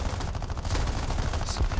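20 mm cannon fire from a Bf 109 E-7 fighter in a video game, a loud, dense, continuous burst of rapid shots over a steady roar, with no pauses.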